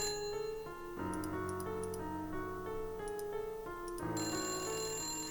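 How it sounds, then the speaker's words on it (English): A telephone rings in the Nancy Drew: Haunted Mansion game, repeated electronic ring bursts in steady rhythm with faint high chimes over a constant background tone, clear and alone. "Ooh, phone's ringing."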